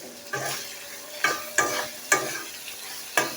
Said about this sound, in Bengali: এখন আমি আবার এই মাছটা আলুটা একটু হালকা একটু হলুদ আর লবণ দিয়ে ভেজে নিই